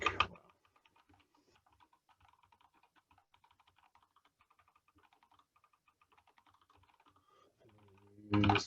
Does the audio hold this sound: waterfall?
no